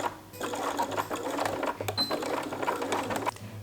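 A sewing machine runs in fast, continuous bursts as it stitches close along the teeth of a zipper on a dress, the needle chatter loud and near with a brief pause at the start and end.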